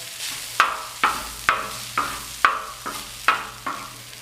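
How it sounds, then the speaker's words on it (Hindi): A spoon stirs fresh coriander into egg bhurji in a hot pan, making about eight evenly spaced scraping taps against a soft background sizzle, close and clear, with no voices. "अब मैं इसमें थोड़ा सा धनिया शामिल करूँगा और इसको मिक्स कर लूँगा।"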